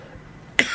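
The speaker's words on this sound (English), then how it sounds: "I'm going to cough in about 3 seconds" A single short, sharp cough, close and fairly loud, following a moment of near silence.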